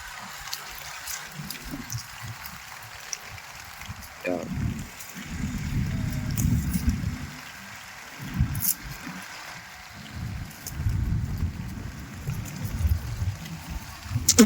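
Heavy rain pouring down outdoors on a farm with goats, a broad steady wash of water that swells and eases in bursts, with someone talking and calling to the animals now and then.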